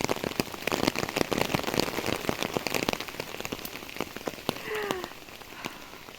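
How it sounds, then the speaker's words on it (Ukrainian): Rain pattering on a surface, with scattered sharp drops tapping irregularly close by against a steady soft hiss. "Але дощ потрібен."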